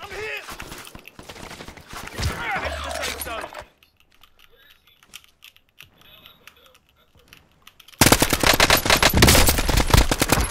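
Rapid automatic gunfire in a shooter video game, dense bursts of sharp shots under excited voices, dropping off into near quiet before a sudden loud, sustained barrage returns.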